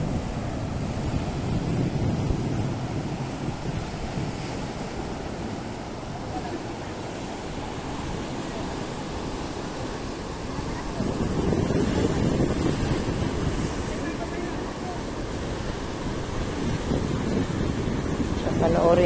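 Sea waves surging against the rocky shore at Cape D'Aguilar, with steady wind buffeting the microphone throughout and a louder swell of surf building near the end; no clear talk over the broadband rush.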